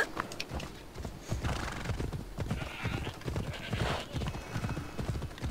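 Rhythmic clip-clop of horse hooves trotting steadily nearby in Assassin's Creed Odyssey, with a horse whinnying partway through; no talking.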